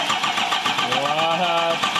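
The diesel engine of a 2021 Duramax Silverado 2500 cranks over in a rapid, steady starter chug, close and loud, with people talking over it.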